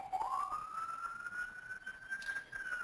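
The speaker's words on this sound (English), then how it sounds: "And I know you can hear that siren." A fire engine siren rises from the station below a downtown Baltimore office tower, one long steady wail heard at a distance through the building, faint and alone.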